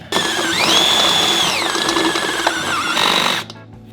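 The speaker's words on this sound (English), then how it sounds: "Now that my pilot hole is drilled, I'm gonna finish it with a 9/16 hole, and this should go right through it." A power drill cuts a 9/16 hole in a Ford F150 for a nitrous fitting, its motor whining loudly and rising in pitch as it bites through metal, then winding down after a few seconds.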